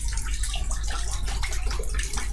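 Water pours and splashes steadily while a deceased body is washed by hand, a continuous close stream with no voices over it.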